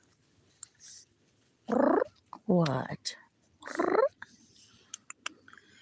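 A cat lets out several drawn-out, close meows with a faint purr between them, and a person speaks briefly.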